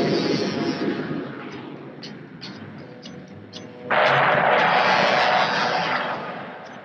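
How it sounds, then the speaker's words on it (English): Skyhawk jet aircraft launching during a combined naval exercise with the Army: a loud, steady engine roar throughout, with brief sharp clanks in the middle, swelling into a broad, intense blast near the end before easing off. "The Skyhawks are launched to take part in a combined exercise with the Army."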